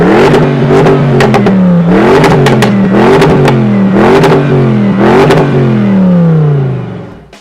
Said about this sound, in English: It has these pops and cracks that you wouldn't expect from a Bentley